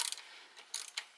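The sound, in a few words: ratchet loosening a bolt on a GM C1500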